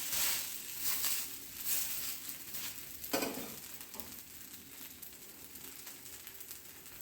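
Spicy jackfruit dosa cooks in a covered pan, giving a steady soft sizzle with faint crackles throughout, close and quiet.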